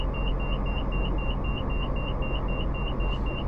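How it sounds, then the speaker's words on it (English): An OH-6A Cayuse (H500C) helicopter idling in Microsoft Flight Simulator gives a steady, rapid high beep that repeats evenly over a constant low engine rumble, with no talking. "Got that lovely beep going on."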